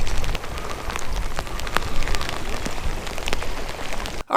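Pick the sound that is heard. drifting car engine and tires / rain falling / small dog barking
rain falling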